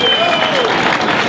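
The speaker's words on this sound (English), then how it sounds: "A big round of applause for Karen Testerman." A rally crowd breaks into loud, close applause for Karen Testerman, a dense wash of clapping with a whistle sliding down through it.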